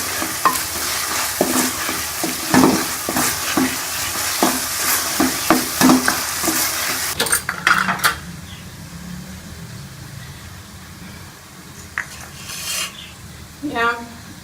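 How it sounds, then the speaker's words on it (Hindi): Taro (arbi) is stir-fried in masala for achari arvi, with a loud, busy scrape of stirring and frequent clanks of a spoon against the pan over steady sizzling, then quieter frying with a few scattered scrapes. "अब इसके अंदर मैं अरबियाँ डाल लूँगी और इसको भी अच्छी तरह से भून लूँगी।"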